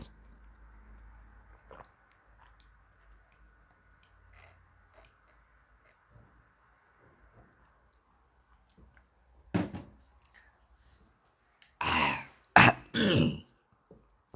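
Harsh coughing from a man who feels unwell, several loud close bursts near the end, following a quieter stretch with faint rustling and a throat clear.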